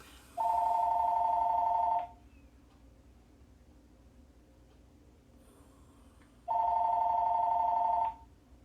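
A telephone rings indoors in two long electronic bursts of about two seconds each with a pause between, clear and fairly close, and nobody speaks over it.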